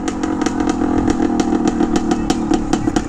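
A 1978 Harley Davidson MX250 motorcycle engine runs steadily and loudly at close range on a road, a continuous buzzing drone with rapid regular pulses and no voices.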